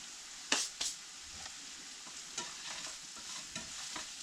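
Apples coated in cinnamon and sugar fry in a pan over turned-up heat, a steady soft sizzle broken by a few sharp scraping stirs near the start and lighter stirring clicks later, with no voices.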